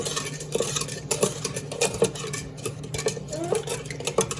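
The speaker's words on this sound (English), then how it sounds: "So you just want to give that a stir." A crockpot bread mixture is stirred with a utensil in a bowl, giving a continuous close scraping and tapping with small rhythmic clinks and no talking.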